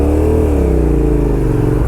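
A dirt bike engine revs steadily while riding, a loud, close, sustained motor drone with a slight rise in pitch, lasting a couple of seconds without speech.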